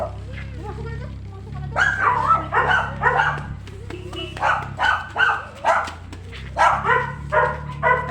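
A dog barks repeatedly in bursts, some sharp yips mixed in, fairly close, while people talk quietly in the background.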